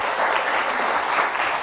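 Dense, even applause from an audience of schoolchildren and families at a junior quiz show contest, clapping for their school heads, a continuous brisk patter with no talking over it.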